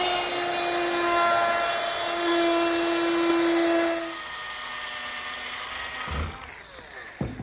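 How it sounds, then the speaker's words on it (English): A power drill whines steadily close by while boring screw holes along the back edge of an oak counter, its pitch shifting partway through before the motor spins down, followed by a couple of short knocks. "I've just drilled 3 holes along the back edge of the counter"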